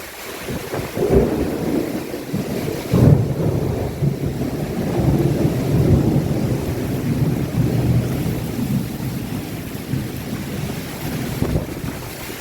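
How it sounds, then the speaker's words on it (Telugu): A heavy storm pours down near a house, with rain as a continuous loud roar and deep rumbles of thunder rolling through it for the whole stretch. "చాలా గట్టిగా పడుతుందండి వర్షం"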